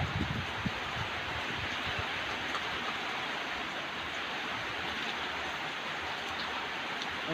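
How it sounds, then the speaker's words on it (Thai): Steady rain pours down with a constant hiss, wind gusting through it and leaves rustling, a dense wash of sound with no voices. "ทั้งฝนทั้งลม"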